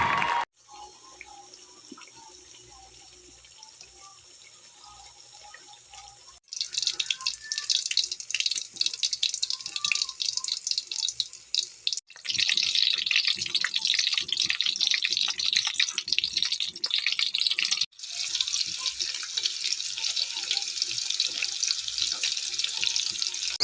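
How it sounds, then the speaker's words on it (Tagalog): Steady patter of rain dripping and splashing on a wet morning, softer at first, then growing heavier and louder in dense bursts, with no voices. "Maulan na umaga."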